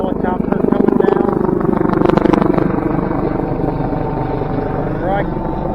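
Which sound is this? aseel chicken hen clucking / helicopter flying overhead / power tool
helicopter flying overhead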